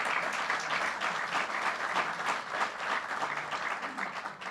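Audience applause at a Bronx event with the New York governor, a steady dense clapping from a crowd lasting several seconds without a break.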